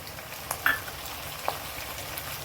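Tomatoes frying with onions and dried prawns in a pan, a faint steady sizzle with a couple of light utensil clicks, close and quiet with no voices.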